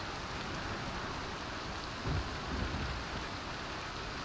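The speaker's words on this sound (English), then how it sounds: "Man, it is raining like a mug." Steady rain hisses across a Star Citizen outdoor scene, with a soft low rumble of thunder swelling briefly midway, everything fairly quiet and continuous.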